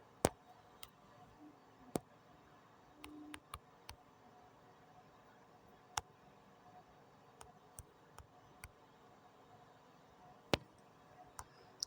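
Sparse, irregular clicks of keys being typed on a computer keyboard, quiet and close, with gaps between strokes over a faint steady background hiss.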